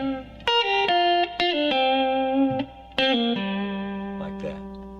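Distorted electric guitar plays a short blues lick with quick pull-offs, bright sustained notes ringing with effects and reverb, loud and close with no talking.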